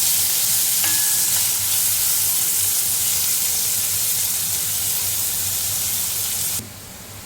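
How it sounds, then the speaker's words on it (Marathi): Finely chopped onion sizzles vigorously in an oil tempering, producing a loud, dense, steady frying hiss with a brief clink early on. The sound cuts off sharply near the end, leaving only a quieter background. "छान सोनेरी रंगाचा होईपर्यंत तेलावर परतायचं आहे।"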